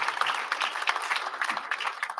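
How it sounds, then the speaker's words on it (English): Audience applause at an annual Martin Luther King Jr. celebration event, a dense steady crowd clapping throughout, moderately loud and close with no talk over it. "Come on, let's give everyone a round of applause."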